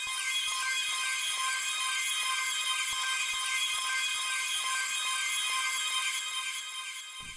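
A one-shot arpeggio loop from a producer's kit, repeated every two bars with portal and delay effects, ripples out as a bright, high, continuous pattern over faint regular low ticks, steady and loud without voices.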